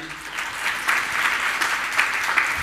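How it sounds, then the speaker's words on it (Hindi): An audience at a Jain monk's spiritual question-and-answer discourse claps together in a steady, dense patter that holds evenly throughout, with faint voices underneath. "बजाओ ताली"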